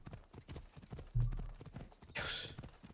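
War horse galloping in Assassin's Creed Odyssey: a rapid, rhythmic run of hoofbeats with a short whinny-like burst near the end, mixed with game ambience and faint talk.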